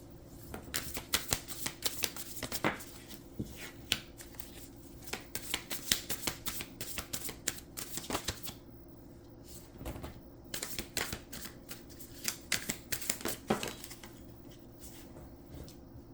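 Tarot cards being shuffled by hand, close and crisp, with rapid riffling bursts and flicks coming in uneven clusters across a quiet room.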